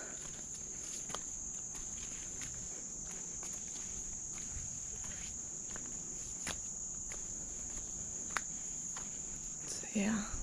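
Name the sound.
insects chirping in summer woods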